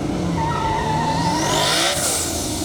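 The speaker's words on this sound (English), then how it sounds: "As you can see, we could do burnouts." A twin-turbo Shelby GT500 does a burnout at a half-mile track, its loud, steady engine roar mixed with screeching tire spin that swells near the end, close and continuous with no talk.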